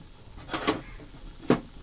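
Hot water poured into a pan of spiced Bengali-style Katla fish curry masala, giving a quiet sizzle with a few brief hissing bursts as the liquid hits the hot pan.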